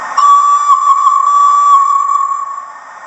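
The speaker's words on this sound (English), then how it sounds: "number two is whistle four bursts" A single steady, piercing steam whistle tone from a Hornby OO Flying Scotsman model train's sound system sounds up close and loud, holding for about two seconds before fading slightly at the end.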